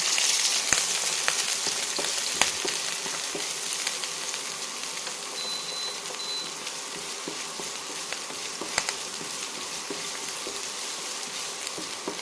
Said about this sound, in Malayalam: സവാളയും കൂടെ ചേർത്ത് 2-3 മിനിറ്റ് സവാള നന്നായിട്ടൊന്ന് വഴറ്റിയെടുക്കാം.